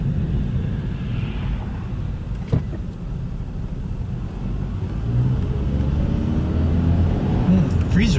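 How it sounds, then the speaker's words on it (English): A freezer truck rumbles past on the road in a low, steady wash of engine and tire noise that swells slightly toward the end. "Freezer truck."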